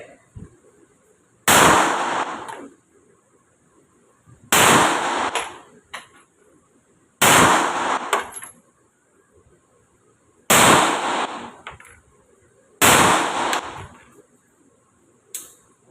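Five 9mm pistol shots fired one at a time at a shooting range, each a loud, sharp crack with a short decaying tail, spaced roughly two to three seconds apart, with quiet background between them.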